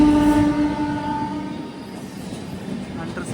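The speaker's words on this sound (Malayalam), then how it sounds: "റാപ്തിസാഗർ എക്സ്പ്രസ് ഇതാ വരികയാണ്" The Raptisagar Express pulls into a railway station, its horn sounding a long, steady tone that fades into a loud rumble of rolling carriages.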